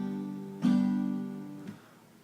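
A single guitar chord rings and sustains, then a second softer stroke follows, quiet and close, part of a rhythm exercise with a tied note held across the beat.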